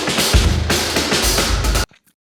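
Loud, dense drum kit playing with heavy kick and crashing cymbals fills the space, then stops abruptly, leaving a short faint tail.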